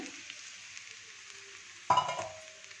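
Semolina (rava) is being roasted in oil in a pan, giving a soft, steady sizzle with a sharper burst of frying and stirring toward the end, close up, with no voices.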